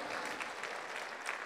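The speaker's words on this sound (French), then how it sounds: "On peut les applaudir bien fort, tous nos petits jeunes qui sont nos petits porte-drapeaux." A crowd applauds steadily at an opening ceremony of a sports competition in Châteauroux, honouring young flag bearers: continuous, dense clapping from many hands throughout, moderately distant and even in level.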